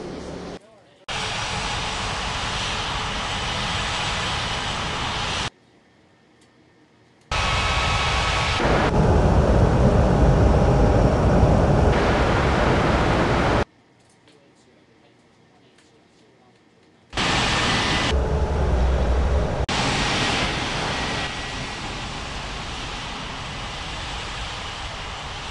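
Aircraft engines in an air traffic control game set at Ngurah Rai Bali International airport: loud, broad jet roar in three long spans separated by abrupt silences, with speech present.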